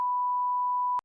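A single pure, steady electronic beep holds at one pitch for about a second and then cuts off abruptly.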